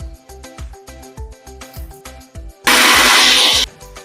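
An electric grinder whirs in one loud, steady burst of just under a second as it grinds a spice paste of cumin, ginger and green chili, following a soft, rhythmic pulsing pattern.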